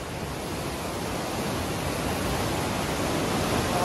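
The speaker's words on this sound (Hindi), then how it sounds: "आवाज बहुत आ रही है पानी की" Fast-flowing water rushing loudly through the Indira Gandhi Canal, a steady, dense roar of churning flow that fills the whole clip and grows slightly louder toward the end.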